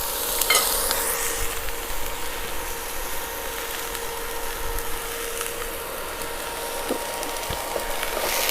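Pork and Chinese kale stir-frying in a hot pan for an oyster-sauce greens dish, a steady close sizzle with scraping and stirring clatter throughout, no talking.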